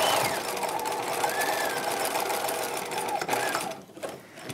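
A sewing machine runs steadily, stitching boning channels on a 1950s-style halter dress bodice, a close, continuous motor whir that stops near the end.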